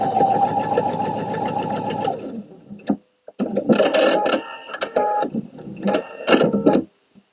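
A PFAFF Expression 720 sewing machine stitching fabric with its built-in even-feed IDT system: a close, steady mechanical whir for about two seconds, a pause, then several shorter bursts of stitching.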